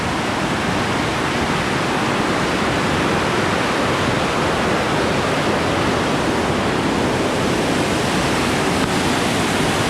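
Rushing water of Eagle Creek near a waterfall in Oregon, a loud, steady broadband roar that continues without pause and with no voices.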